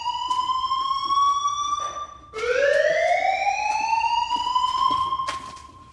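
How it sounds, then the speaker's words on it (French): A fire alarm goes off on a building floor with a loud, close electronic tone that rises in pitch and holds steady, cuts out briefly, then rises and sounds again. "L'alarme incendie s'est déclenchée à cet étage."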